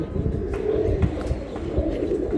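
Bezi pigeons, a domestic breed, coo in low throaty rolling calls close by, a short run of murmuring phrases with no talking over them.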